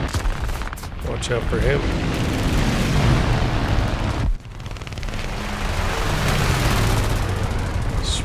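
A Fokker D.XXI fighter's machine guns spray in long rapid bursts during an air arcade battle in War Thunder, loud and sustained over engine roar, with a brief pause midway and a voice speaking briefly.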